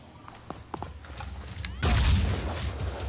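A gunshot from the tactical video game Phoenix Point: a few light clicks and thuds lead up to a sudden, heavy blast that keeps roaring loudly through the final stretch.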